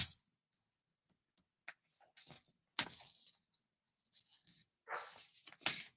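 A pet dog whines and yelps indoors in short, scattered bursts separated by silent gaps, moderately close and fairly faint, with small rustling craft-table sounds during a live crafting session.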